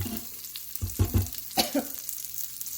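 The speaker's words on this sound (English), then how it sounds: "So let them kind of like partially fry and roast for a minute or so in here." Cashews, raisins and spices fry and roast in oil inside an Instant Pot for jackfruit biryani, giving a soft steady sizzle broken by several sharp stirring clatters and scrapes.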